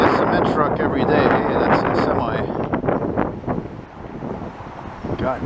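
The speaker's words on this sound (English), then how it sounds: "is it ever windy today, though" Loud, steady wind buffets the microphone with a broad rushing roar that barely lets up, with some truck and city traffic rumbling underneath in Montreal.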